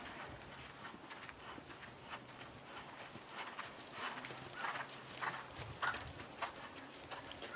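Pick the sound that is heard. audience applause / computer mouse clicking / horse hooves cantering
horse hooves cantering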